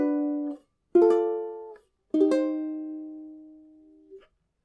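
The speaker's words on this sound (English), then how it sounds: "And the first 3 chords would sound like this." Three strummed ukulele chords opening a solo arrangement of Lullaby, played one after another with short gaps, each ringing out clearly and decaying, the last held longest; close, solo instrument with no voice.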